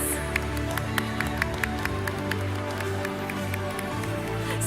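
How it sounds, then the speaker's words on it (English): An audience at a school speech contest applauds second-place winners, with scattered individual claps ringing out over a steady crowd murmur, fairly close and moderate in level. "Let's give a big round of applause."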